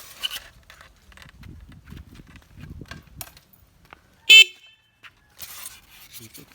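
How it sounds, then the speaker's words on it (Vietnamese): A single short, loud blast from an ordinary motorcycle horn on a Simson S51, standing out sharply after a stretch of low rumbling and handling noise and followed by quieter rustling. "đây là chiếc còi xe máy bình thường."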